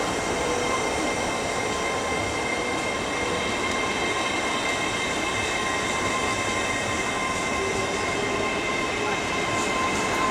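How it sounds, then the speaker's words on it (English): A Class 800 train pulls out of Leeds station, a steady, loud rumble of wheels and traction with faint squeals running throughout, heard close at platform level. "And here goes 800-103 off to St Neots."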